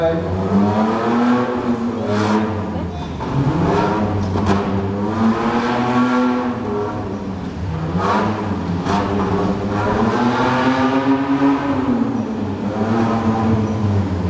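A Nissan GU four-wheel-drive competition vehicle at an off-road event, its engine loud and near, repeatedly revving up and easing back in long rising and falling surges, with a voice over the top.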